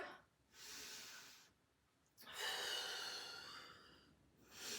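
Deep, forceful breaths during a Pilates workout: a long airy exhale, a pause, then a louder, longer breath that tapers off, with another rising at the end, close to the microphone and with no talking.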